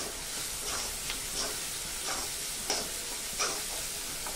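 Chopped onions frying in a pan for a tomato-onion vegetable dish, a steady sizzle with periodic scraping strokes of a spoon as they are stirred, moderately close and with no one talking.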